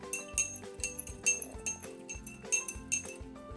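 A spoon clinks repeatedly against the inside of a glass of water in quick, uneven taps while stirring in sugar, close and fairly clear.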